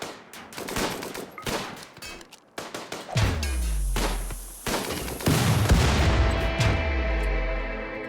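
Bursts of gunfire from robots and turrets in the video game RimWorld, a rapid fusillade of loud shots and heavy booms overlapping one another, continuing without pause and without any voices.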